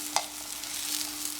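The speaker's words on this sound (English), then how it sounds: "While the chicken are frying" Chicken frying in a pan with about three tablespoons of oil, a soft steady sizzle with a brief stir or scrape near the start, fairly quiet and without talk.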